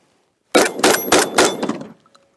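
A Remington V3 Tac-13 12-gauge pump shotgun fired rapidly at a range, four loud close booming shots in quick succession, followed by a short fading echo and then quiet.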